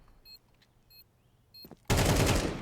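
A gunshot headshot in Counter-Strike 2 on Dust2: faint, quiet game ticks and clicks, then a single sudden loud, close crack that stays broad and harsh until the end.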